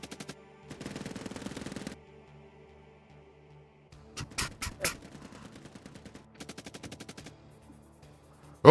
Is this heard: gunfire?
yes